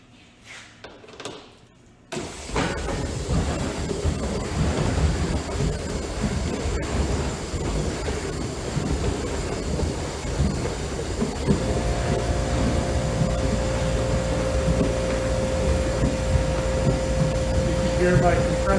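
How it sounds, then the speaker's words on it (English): An air compressor runs as a constant mechanical hum and whir while bee feed is mixed indoors. The hum starts abruptly after a short quiet opening and holds steadily. "Hear my compressor in the background."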